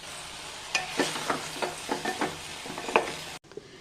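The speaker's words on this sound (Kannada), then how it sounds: "ಈಗ ಮತ್ತೆ ಹುರಿಯೋಣ. ಚೂರು ಹುಣಸೆಹಣ್ಣಿನ ರಸದಲ್ಲಿ ಬಾಡಲಿ." Okra fries in tamarind juice for sambar, with a soft sizzle under a series of scraping stirs in the pan, quiet and close, and no talking.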